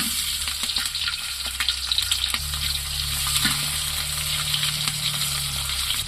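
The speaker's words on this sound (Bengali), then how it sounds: "তেল গরম হয়েছে এখন পেঁয়াজ কুচি আর শুকনো লঙ্কা দিয়ে দিলাম" Chopped onion and dried red chili hit hot oil in a cooking pot, giving a steady loud sizzle and crackle close by, with occasional stirring scrapes and a low hum underneath throughout.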